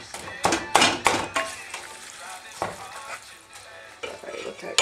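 Beef and sausage cooking in a pan for meat sauce, with steady sizzling under clanks and scrapes of a utensil stirring against the pan, close and moderately loud.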